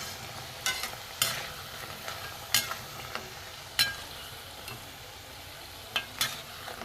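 Milk-soaked bread pieces fry in a pan and are flipped over and over, giving sharp scraping clicks and taps at irregular intervals above a faint, steady sizzle, with no talking.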